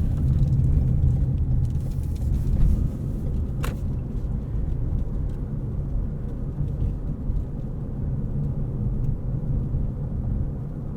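A 2020 Lexus NX 300h hybrid cruises around 30 miles an hour in full electric mode, heard from inside the cabin as a steady low road rumble and tyre drone with one brief click and no engine note.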